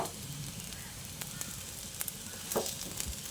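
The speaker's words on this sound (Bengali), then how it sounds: "আমি খুন্তির সাহায্যে পিস করে নিচ্ছি" Fish roe frying in a pan sizzles with a steady hiss as a metal spatula cuts it into pieces, adding a few sharp scraping taps and a louder clatter near the end.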